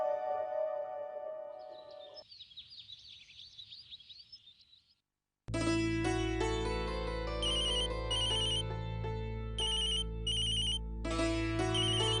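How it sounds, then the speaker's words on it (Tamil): A telephone ringtone sounds loudly at close range, a rich electronic melody with repeating high tones, preceded by a softer chiming tone and a brief silence. "அர்ச்சனா, நீ எனக்கு ஃபோன் பண்ணிருந்தியா?"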